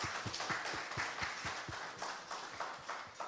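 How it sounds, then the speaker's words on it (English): Audience applause for the panelists at the close of a leadership conference session, steady clapping from a room of people, moderately loud and sustained throughout. "A big round of applause for the panelists."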